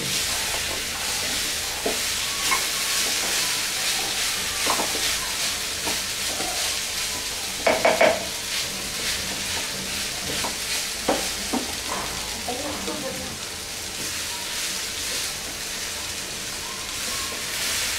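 Mixed greens and mango stir-fried in a pan with a spatula, a continuous soft sizzle broken by scraping stirs and a few louder clatters, with no talking.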